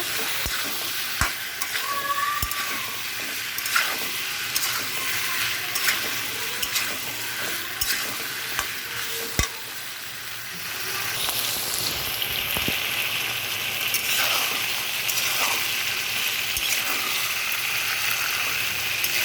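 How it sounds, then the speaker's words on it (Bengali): Steady sizzling of pointed gourd and taro being sautéed in a pan, with a spoon scraping and tapping the pan at intervals throughout. "ভালোভাবে নেড়ে চেড়ে একটু কষাই নেব"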